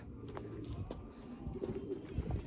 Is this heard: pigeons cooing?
yes